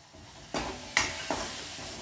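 A splash of water hits a hot pan of cauliflower tempering and sizzles, with a few sharp bursts of hiss and clatter over a soft frying background.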